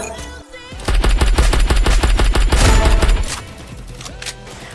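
A VSS rifle in a solo-versus-squad battle royale mobile game fires a rapid, loud burst of close repeated shots for about two seconds, followed by a quieter tail of game ambience; no talking.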